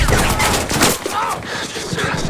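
Dense, loud gunfire fills a war movie battle scene as Taliban forces assault a ridge, with rapid overlapping bursts like fusillades and machine-gun fire running continuously, and voices partly buried under the shooting.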